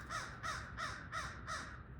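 Crow cawing near a barred owl, five loud, evenly spaced harsh caws about every third of a second, each a strong, clear call standing alone with no talk over them.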